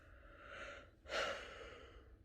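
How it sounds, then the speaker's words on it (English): A person yawns with a soft inhaled breath, a short pause, then a louder breathy exhale, close and quiet with no talking. "here comes another yawn"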